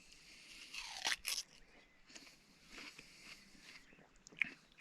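Close, crisp crunching of a bite of melon with a watermelon-like texture, a loud burst of bites early on followed by softer chewing and one more sharp crunch near the end, outdoors on a river canoe trip.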